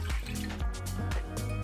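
A cup of water is poured into a pot already holding apple cider vinegar, for cooking shrimp, giving a brief, close, continuous splashing gurgle.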